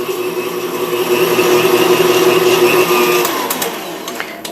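An electric mixer whirs steadily, loud and close, beating softened cream cheese for pumpkin spice whoopie pie filling, with a constant droning tone that thins slightly and gives way to a few light knocks near the end.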